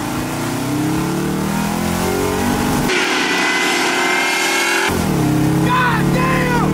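A slammed, supercharged 1965 Ford Mustang engine revs at half throttle, a loud, close roar that climbs, drops briefly and then surges again with a slight blower whine. Voices can be heard over the engine.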